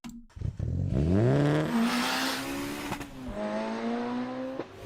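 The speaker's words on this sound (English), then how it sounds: "it sounds like a typical turbo 4-cylinder." A 2003-2005 Mitsubishi Lancer Evo VIII's turbo four-cylinder engine revs up and holds a rising, buzzing drone, then shifts and settles, with a turbo whine; close and fairly loud.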